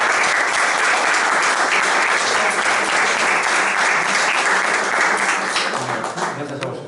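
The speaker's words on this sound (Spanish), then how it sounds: "vamos a darle un aplauso" An audience at a lecture on early Christianity applauds, dense sustained clapping that stays loud and even before tapering off at the end.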